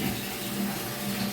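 Water pours steadily into a bucket for a cold morning bath, a dense continuous rushing gush, close and loud from start to finish without a break.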